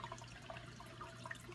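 Water is poured into a five-gallon betta fish tank during a water change, a continuous soft splashing and trickling stream with small bubbly accents, quiet and close.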